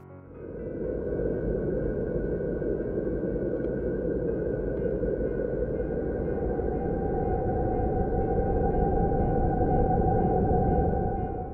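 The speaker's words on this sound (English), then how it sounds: "The sound of Saturn." Eerie, continuous whooshing drone from Saturn's intense radio emissions, with wavering tones and a steady hiss, sustained at an even level throughout with no voices.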